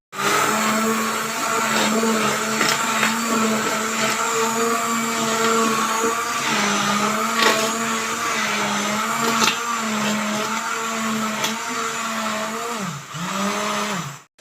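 An electric churner whirs loudly and steadily as it turns cream into butter, a continuous motor drone with a wavering pitch that dips briefly a few times and cuts off at the very end.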